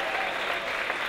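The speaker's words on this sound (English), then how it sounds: "Please give them a huge round of applause." A live audience claps steadily for the volunteer committee at a wearable arts show, a dense even wash of applause across the full second with no voices rising above it.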